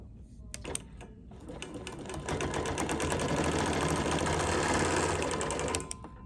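A sewing machine quilts around a boxed section of a holiday quilt, running as one steady, close, continuous stretch of rapid stitching after a few short taps, with talk mixed in.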